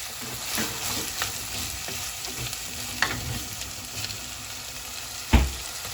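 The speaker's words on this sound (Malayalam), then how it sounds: "തക്കാളിയും കൂടി ഇട്ടിട്ട് നന്നായിട്ട് അങ്ങോട്ട് വഴറ്റുവാണ്." Tomatoes sautéing and being stirred in a pan for Kerala-style king fish curry, a steady close sizzle with soft spoon scrapes and a sharper clack near the end.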